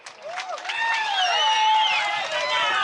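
Audience applause for a comedy speaker at a Tamil stage event swells quickly into steady, dense clapping, with whistles and cheers rising over the crowd.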